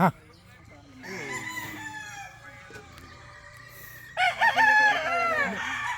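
Chickens on a farm with a rooster crowing, several drawn-out crows rising over clucking, one loud nearby crow near the end, while people talk in the background.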